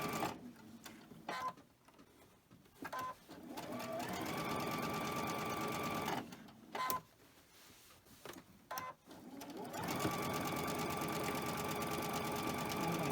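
Sewing machine stitching cotton fabric pieces, running in several bursts of steady mechanical whirring with short pauses between them, close and moderately loud.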